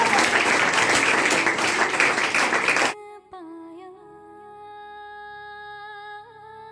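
An audience applauds for Kayanat as she comes up to present her school project: dense, loud clapping for about three seconds that stops abruptly, followed by quiet sustained tones.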